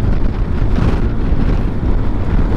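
Loud, gusty wind blasts steadily against the mic, a heavy low roar that fills the whole moment without any talking.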